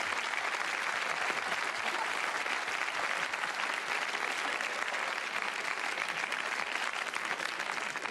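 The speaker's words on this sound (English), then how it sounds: "let's give them a nice round of applause" Studio audience on a 1990 television game show claps steadily for arriving contestants, a dense, even roar of applause filling the whole stretch.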